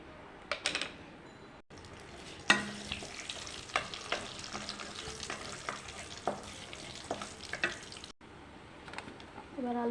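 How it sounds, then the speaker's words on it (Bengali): Bay leaves and panch phoron spices dropped into hot oil for a vegetarian vegetable dish, a close crackling sizzle with repeated sharp spatula scrapes and clicks, brief cuts of silence, and faint voice in places. "এবারে তেজপাতা আর পাঁচফোড়ন দিয়ে দিচ্ছি"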